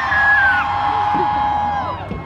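Crowd of women at a fair concert screaming and cheering loudly, with a sustained high whoop over a dense roar of voices throughout.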